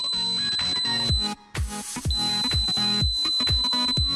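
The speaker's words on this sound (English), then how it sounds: "See how this small movement can trigger the alarm." A homemade PIR motion alarm buzzer going off with a shrill, piercing electronic tone that pulses in a rapid repeating warble, loud and close, with one brief dropout midway.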